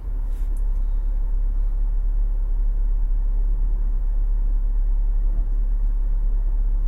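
A 2016 Cadillac CT6 Premium V6 AWD reverses slowly during automatic parking, giving a steady low interior rumble with a brief faint chime at the start.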